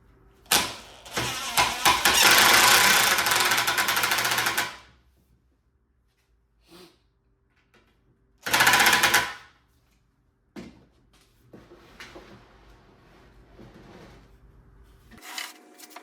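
Short bursts of a power drill driving 1-inch screws into wood, two long whirring runs and a brief one, separated by quiet pauses with small handling knocks and rustles.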